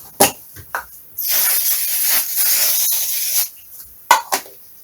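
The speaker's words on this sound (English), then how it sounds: "just to cure that off, I'm going to spray it." A can of aerosol spray is sprayed onto a 1/6 scale Tiger Moth model aircraft, giving one long close hiss of about two seconds, framed by a few short clicks and knocks from handling the can before and after.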